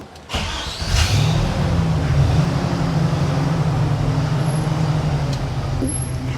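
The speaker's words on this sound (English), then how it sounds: "I'm supposed to ride in this jalopy?" A 1968 Jeepster Commando rolls up close by, its engine rumble swelling within the first second, then settling into a steady, throaty idle that carries on loudly to the end.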